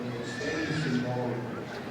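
Horse neighing in the horse lines at the Royal Welsh agricultural show, a single fairly close whinny over outdoor crowd murmur.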